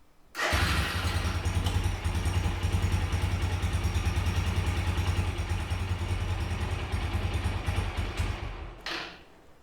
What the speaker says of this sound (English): run the bike for about 30 seconds